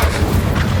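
Incendio fire spell blast in Hogwarts Legacy, a short, loud, dense rumbling burst of flame with deep booming low end, brief and sustained without pause.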